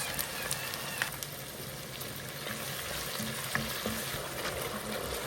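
Onions, tomatoes and salt fry together in a pan for a home-cooked African vegetable dish, with a constant crackling sizzle broken by scattered light taps and spatters.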